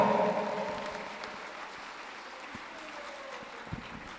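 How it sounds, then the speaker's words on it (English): Applause from a crowd at a school anniversary prize-giving day, fairly dense at first and then thinning into a quieter, steady patter of clapping that fades toward the end. "Let's give another big round of applause to Kajachiko and Nanasechi for that wonderfu"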